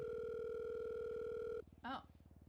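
A steady telephone call tone sounds while a call is placed. It holds loud for about a second and a half, then cuts to a soft pulsing buzz, with a brief voice sound shortly after.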